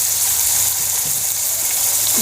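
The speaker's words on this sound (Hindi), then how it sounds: "अब इसको 4-5 मिनट तक भून देती हूँ" Spices and chicken for haleem frying in a pan, a soft continuous hiss of sizzling oil, fairly even and close, with no voices over it.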